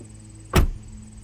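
A single solid car door thunk from a 2007 Mercedes-Benz S550 4Matic, short and close, against a quiet background hum.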